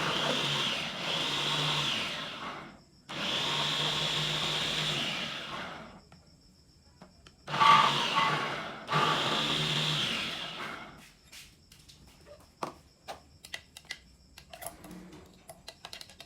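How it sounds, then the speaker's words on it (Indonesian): A blender purees apples in several loud bursts, pausing between them, then stops, leaving scattered clicks and light clatter. "Blender sampai tekstur yang diinginkan."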